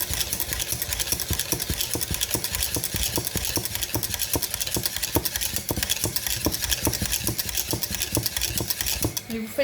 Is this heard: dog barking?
no